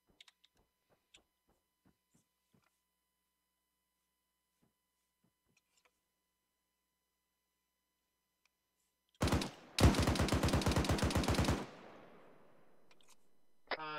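An airsoft machine gun fires a loud, rapid, evenly spaced burst of about two seconds during an outdoor skirmish game, after a short first volley and a few faint scattered clicks, with no talking.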